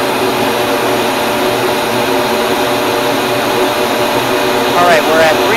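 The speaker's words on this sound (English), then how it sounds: "What I'm going to do is get the flow bench up to 300 CFM" An airflow bench pulling 300 CFM through a cold air intake with filter: a loud, steady, unbroken rushing roar like a large vacuum, holding constant throughout, with a brief higher whine near the end.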